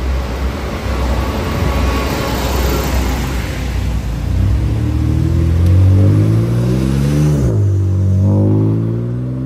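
A BMW car engine revs up loudly, its rising whine climbing steadily over several seconds before dropping sharply and surging again, heard alone with no voices.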